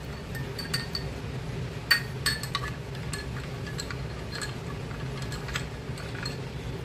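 A spoon stirs fennel milk sharbat in a glass, giving a scattered series of light, close clinks and taps over a low steady background hum.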